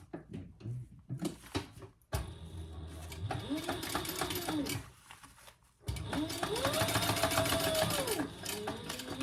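A sewing machine top-stitches fabric in two bursts of steady whirring, each rising and holding, with a short pause between them and brief handling noises at the start.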